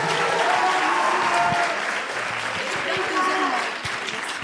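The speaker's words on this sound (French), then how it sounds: "On peut les applaudir pour les encourager." Audience applause at a student business presentation event, a dense steady wash of clapping throughout with some voices and murmurs mixed in, tapering slightly near the end.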